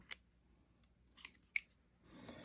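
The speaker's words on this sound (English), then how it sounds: "Let me just trim off a little excess here." Excess material being trimmed for a bow light mount: a few separate, crisp snips and cuts, close and quiet, spaced irregularly, with a rustle at the end and no talking.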